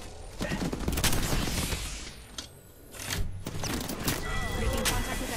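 Gunfire in the battle royale shooter Apex Legends: bursts of rapid shots crackle across the scene, loud and close, with a brief lull midway before the firing picks up again.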